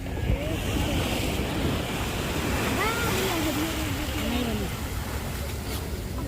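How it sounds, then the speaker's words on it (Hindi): Strong, fast-moving water surges and crashes in waves during the rainy season, a continuous loud roar with heavy wind buffeting the microphone and a voice talking over it. "इतना लहर हो रहा है, इतना समझ कि पानी का टकराव, इतना पानी की स्पीड है"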